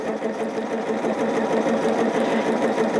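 A sewing machine stitches quilt blocks for a Trip Around the Block quilt, running in a steady, close, continuous mechanical whir with a rapid stitching rhythm and no pauses.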